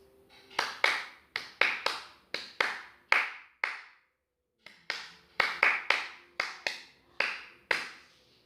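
Sharp hand claps tap out a steady rhythm in two phrases separated by a short pause, clear and close with no voices.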